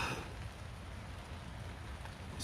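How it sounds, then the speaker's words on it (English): Steady rain patters on a Luxe sil Hexpeak V4 tent pitched in deep woods, a dense continuous hiss of drops on the fabric with no voices, even and unbroken throughout. "it's raining, still raining"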